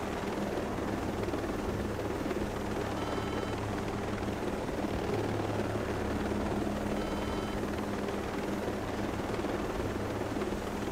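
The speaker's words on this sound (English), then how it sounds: "Helicopter is pretty much done." Helicopter in the Ghost Recon Breakpoint video game, a steady low rotor drone and engine roar that holds loud and unbroken throughout, with no talk over it.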